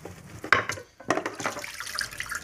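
Tap water runs into a sink while a cast iron pan is rinsed and scrubbed, with irregular splashing bursts and a short lull midway before the flow resumes steadily.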